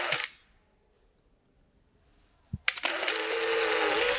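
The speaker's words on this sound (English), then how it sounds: "Okay, that's the sound of out of film" A film camera that has run out of film gives a short mechanical click and whir at the start, then near silence, then a sharp clack followed by a sustained winding buzz, all close up.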